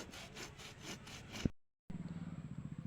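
A heel is scrubbed with detergent powder and water in quick, rhythmic rasping strokes close up. A short silent gap comes before the rubbing resumes at a faster, regular pace.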